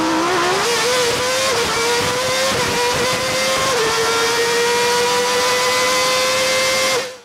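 An Audi RS5 Coupé engine revs loudly and close by outdoors at a gas station, a steady strong drone with rising and dipping pitch across several throttle blips, and no talking.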